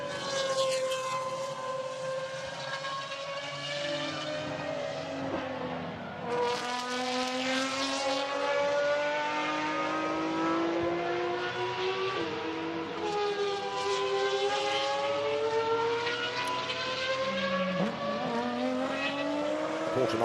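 GT race cars, including a Porsche 935 and Pagani hypercars, circulate on the Barcelona circuit, their engines loud and continuous with rising and falling pitch as several cars pass in overlapping waves.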